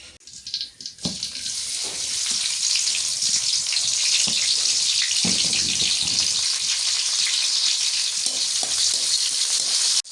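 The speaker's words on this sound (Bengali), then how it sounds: "এখন মাংসটা তেলানি করি, মাথায় রাখছি তো তেলানি করে দিয়ে দিই এখন।" Beef frying in oil in a pot for a curry, a steady bright sizzle that holds close and loud throughout, with occasional stirring clatter and no talking.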